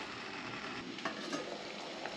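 Sinigang broth boils in a pot with a steady, faint bubbling and sizzling hiss and occasional small pops, heard alone.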